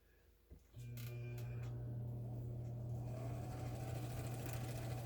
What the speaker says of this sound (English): The thread should wind evenly back and forth across the bobbin until it's full.